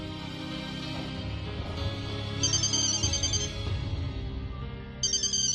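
An electronic telephone rings in repeated trilling bursts over a background of dramatic music, pausing briefly before ringing again near the end, in a scene from an Urdu TV drama.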